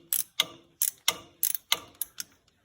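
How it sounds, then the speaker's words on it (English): A 3/8 ratchet turning the level plug on an International 560 tractor: a series of sharp, close ratcheting clicks in short irregular bursts with brief pauses between strokes, heard alone. "Just need a 3/8 ratchet for that."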